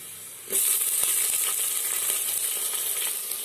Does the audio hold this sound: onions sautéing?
yes